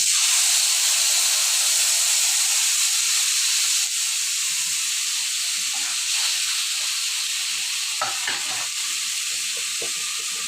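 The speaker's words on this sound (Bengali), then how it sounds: "তেলটা বেশি গরম হয়ে গেছে তো এখানে দিয়ে দিচ্ছি এখন আমি তাহলে দিয়ে দিচ্ছি আমি আদা আদা রসুন পেঁয়াজ বাটা দিয়ে দিচ্ছি" Ginger, garlic and onion paste sizzles loudly in very hot oil as a dense, steady frying hiss that stays close and constant throughout, with a few faint stirring knocks and no speech.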